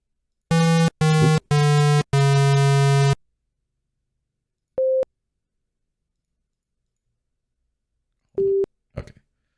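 Electronic Simon memory game tones play from a Circuit Playground board: four quick buzzy beeps in a burst, then a lone pure tone, then another tone followed by faint clicks, all separated by silence.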